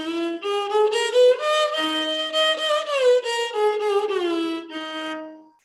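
A Carnatic raga, Mayamalavagowla, played as a melodic line on a single sustained instrument, stepping through its notes one after another with smooth glides, clear and close with no voices.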